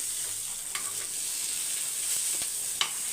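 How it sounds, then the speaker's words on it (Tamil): Fish roasting in a hot pan after being flipped, a steady loud sizzle and crackle running throughout with a few sharper pops, no speech. "நம்ம மீன் வந்து நான் நடுவில் திருப்பி போட்டுட்டேன் இங்கே பாருங்கள் நல்லா ரோஸ்ட் ஆகிடுச்சு"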